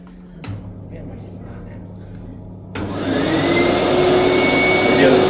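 A Taski Procarpet 30 carpet cleaner sits in a low hum with a couple of knocks, then its suction motor kicks in and runs loud and continuous with a steady whine.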